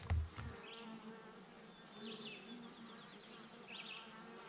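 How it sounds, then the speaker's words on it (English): Honey bees buzz steadily inside an open hive full of nurse bees, young bees and emerging brood, a dense close drone with rising whines as individual bees pass near. "So there's a lot of baby bees, nurse bees in here and stuff."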